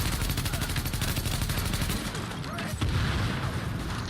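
Rapid, dense gunfire rattles almost continuously in The Division video game, with a heavier impact partway through as an explosive mine goes off among enemies.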